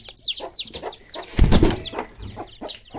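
Newly hatched chicks peep in rapid high chirps around a clucking hen, close and loud, with a burst of rustling in the middle.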